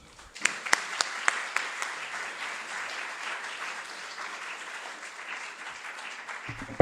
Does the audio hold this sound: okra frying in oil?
no